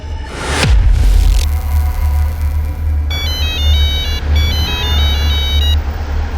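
A phone ringtone chimes in a repeating electronic melody, preceded by a short whoosh, over a steady low rumble like a running engine.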